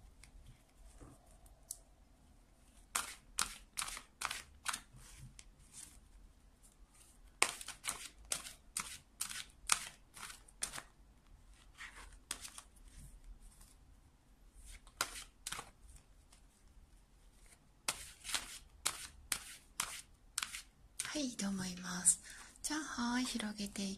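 Fortune-telling cards being shuffled close up in a series of quick riffling bursts with short pauses, ending in a rougher sliding spread of cards; a soft voice is faintly present beneath.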